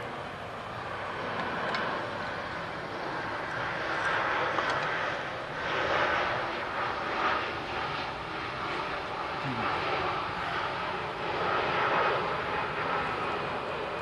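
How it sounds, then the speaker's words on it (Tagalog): An airplane passes overhead near an airport, a broad, steady roar that rises and falls gently for several seconds, moderately loud at a distance. "May dumadaan ng aeroplano."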